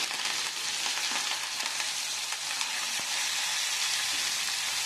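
Chopped onions and curry leaves sauté in oil with mustard seeds and urad dal for a bitter gourd curry, giving a steady, even hiss with faint stirring scrapes throughout and no voices.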